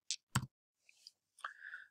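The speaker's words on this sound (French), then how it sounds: "Vous cliquez ici sur rechercher." Computer mouse clicks, a couple of sharp close clicks followed by faint soft clicking and a brief electronic tone, isolated with no talk.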